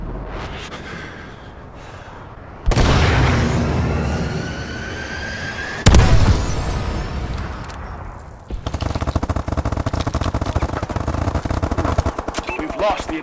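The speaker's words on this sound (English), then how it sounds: "Friendly missile strikes incoming." Explosive blasts and heavy gunfire in Call of Duty: Advanced Warfare multiplayer as friendly missile strikes land, with loud broadband booms at intervals, a dense rattling stretch of fire near the end, and game voice lines in between.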